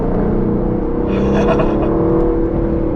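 An Aston Martin Vantage is driven, its engine giving a steady, loud low drone with a brief rise in revs midway, close and continuous.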